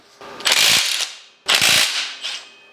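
A ratchet works loose 14mm bolts on a Honda K24 engine in two close, loud bursts of rapid clicking, each ending abruptly, with a shorter third burst trailing off.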